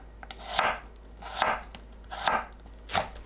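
A knife slices potatoes into half-moon pieces about half a centimetre thick on a cutting board: four crisp, evenly spaced chops, close and clear with quiet pauses between.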